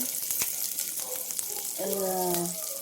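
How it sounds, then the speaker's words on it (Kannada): Garlic cloves fry in a pan with a steady, close sizzle and hiss, broken by a few clicks and a short clatter as things are added or stirred. "ಬೆಳ್ಳುಳ್ಳಿ ಹಾಕಿ ಫ್ರೈ ಮಾಡ್ಕೊಳ್ಳೋಣ"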